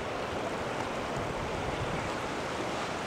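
Floodwater from a diverted river roars in a field during a spring flood, a steady, dense rushing wash that never lets up, heard alone with no voices.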